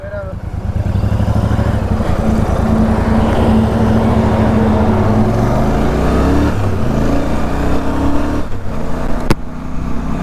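A Royal Enfield Super Meteor 650 motorcycle on a ride gives a loud, steady engine drone throughout, its pitch shifting gradually as the rider changes speed.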